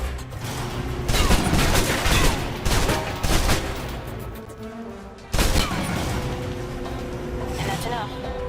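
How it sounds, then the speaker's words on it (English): Submachine gun fire from the video game Alpha Protocol, loud rapid bursts over a continuous game soundscape, with dense volleys early and a sharp restart of fire midway. "If you're trapped in close quarters with multiple opponents, the SMGs can help clear the room quickly. Not subtle or quiet"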